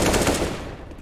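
Rapid submachine gun fire from a Counter-Strike match, a loud, dense burst of shots that fades out over about a second.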